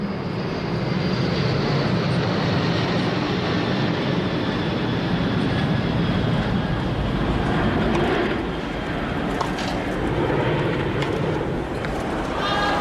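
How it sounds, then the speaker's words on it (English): A jet aircraft passes overhead during an outdoor tennis match at the 1980 US Open final, a broad steady roar under crowd noise and commentary that eases off toward the end. "Perhaps you heard the jet go overhead in the middle of that point."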